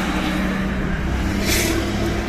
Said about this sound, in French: entre les voitures, le bruit des gens.